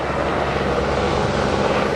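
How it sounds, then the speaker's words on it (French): Aircraft engine drone from a helicopter passing overhead outdoors, a loud steady broadband roar filling the whole moment with no talking over it. "Il y a un hélicoptère qui passe, je sais pas si vous l'entendez"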